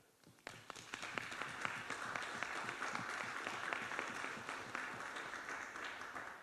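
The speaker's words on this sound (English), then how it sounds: "you should all applaud yourselves for being here today" An audience at a town hall meeting claps together in sustained, dense applause that starts abruptly and continues evenly for several seconds.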